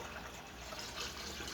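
Bleach is poured into a Ford F-150 truck part, giving a faint, steady trickling liquid flow heard close up with no talk.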